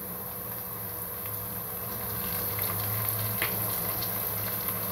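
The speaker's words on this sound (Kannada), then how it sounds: "ನೋಡಿ ಈಗ ಪುದೀನ ಸೇರಿಸ್ತಾ ಇದ್ದೀನಿ." Mint leaves fry in oil with a soft, continuous sizzle that stays fairly quiet and swells slightly in the second half, with a few faint clicks.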